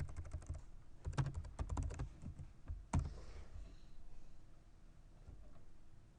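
Code is typed on a computer keyboard as quick clusters of close key clicks, with one sharp press partway through and quieter scattered taps after it.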